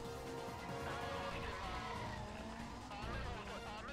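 A car runs at full throttle in the 2005 racing game Need for Speed: Most Wanted, its engine roaring loud and steady with tire squeal mixed in throughout.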